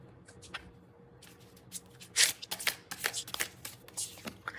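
A deck of fortune-telling cards is shuffled close by in quick riffles and flicks, with a sharper burst midway and a quiet voice heard faintly beneath.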